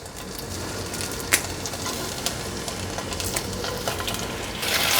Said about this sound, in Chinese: 炒一炒